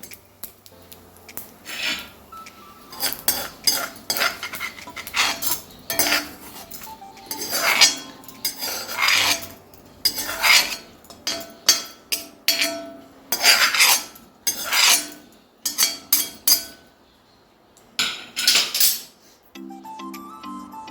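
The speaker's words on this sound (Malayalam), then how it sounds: "ഉഴുന്ന് പരിപ്പൊക്കെ ബ്രൗൺ ആയിട്ടുണ്ട് നമുക്കൊരു പ്ലേറ്റിലേക്ക് ഇത് മാറ്റാം" Browned urad dal being moved from a frying pan onto a plate for Karnataka-style tomato chutney: irregular metallic clinks, scrapes and taps of a spoon against pan and plate, close and bright, with short pauses between strokes.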